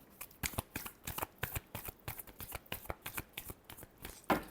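Tarot cards shuffled by hand at close range, a quick string of soft riffling slaps and flutters in an even, repeating rhythm, faint and alone.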